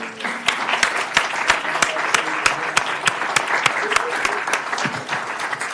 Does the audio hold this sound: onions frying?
no